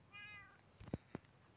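Cat meowing, a single short mewing call followed by a couple of soft thumps, close but faint over quiet background.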